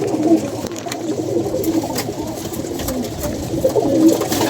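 Pigeons coo in a loft kept by fanciers, low rolling calls repeating steadily throughout, close and fairly loud over a busy background of other birds.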